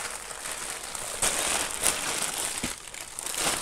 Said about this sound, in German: Packen wir mal hier unten die weißen Tüten.